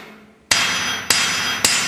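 A blacksmith's hammer strikes a Hofi anvil three times at an even pace, each sharp metallic clang ringing on loudly and close between blows.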